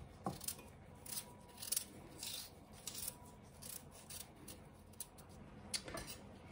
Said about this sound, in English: I'm going to peel 3 large russet potatoes